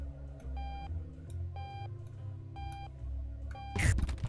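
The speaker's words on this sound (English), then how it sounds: "Alarm clock. I don't need you. I am awake." An alarm clock in the video game Octodad gives short triple beeps in a steady repeating pattern over a low music bed, ending with a sudden louder crash.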